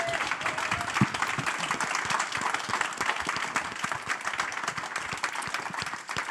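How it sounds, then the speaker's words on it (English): An audience at an RTS London industry panel gives the panelists a big round of applause, with close, crisp individual claps over a sustained, fairly even wash of clapping that continues for several seconds. "Can we have just a big round of applause for them?"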